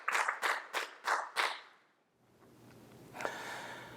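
A church congregation at a worship service claps five times in unison, sharp even beats about a third of a second apart, then falls into quiet room hush with a faint stir.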